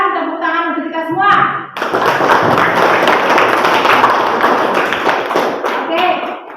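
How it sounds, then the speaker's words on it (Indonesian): A classroom group of children claps together after presentations, a close burst of hand claps and thuds following some voiced sounds at the start, tapering off toward the end. "Sekali lagi kita memberikan tepuk tangan untuk kita semua."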